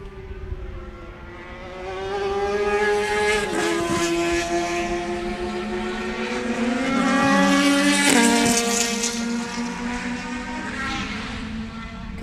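Prototype race cars racing at Sebring roar past together, engines whining at high revs with overlapping pitches that rise and fall as they shift gears and sweep by, loud and continuous.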